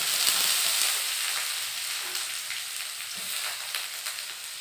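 Chopped onion goes into oil where crushed garlic is already browning, setting off a loud, dense sizzle that eases slightly over a few seconds, with a couple of light utensil taps and no talking.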